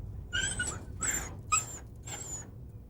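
A dog whimpers close by in four high, plaintive whines, each rising briefly then fading, evenly spaced.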